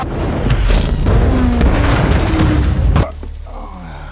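A train crashes through a wall in a heavy, sustained roar of grinding impact and debris, loud and dense, cutting off abruptly into a quieter rumble.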